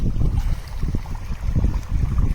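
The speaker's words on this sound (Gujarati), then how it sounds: "અત્યારે પાણી ચાલુ છે" Tap water running steadily, a continuous rushing, splashing flow close by, fairly loud and on its own without talk.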